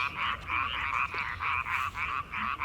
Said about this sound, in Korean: 개구리